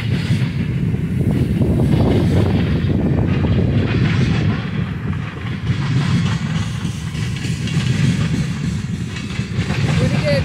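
A long freight train rumbles steadily past at a rail crossing in Deshler, Ohio, following an intermodal train with two distributed power units; the low, continuous roar and clatter of rolling cars stays loud and close throughout.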